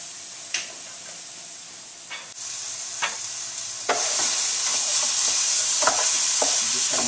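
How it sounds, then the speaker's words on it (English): Ground turkey seasoned with salt and pepper sizzles steadily in a frying pan, the hiss swelling louder partway through, while a utensil breaks up the meat with a few sharp scraping taps. "Sort of break up your ground turkey."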